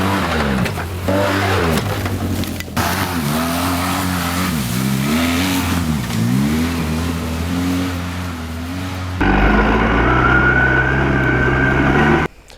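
A 2012 Polaris Sportsman 800 big-bore ATV with a CVT transmission ridden on an off-road trail, its engine note rising and falling as the throttle opens and closes, then shifting to a harsher, steadier drone near the end.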